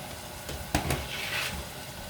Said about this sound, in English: Starting to sizzle, so I'm going to add it into there, and I'm going to fry it for about 5 minutes.